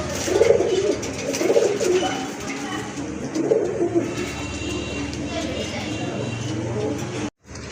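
Rajgolla pigeons coo repeatedly in low, throaty bursts against steady background noise, fairly close, with soft chirps mixed in.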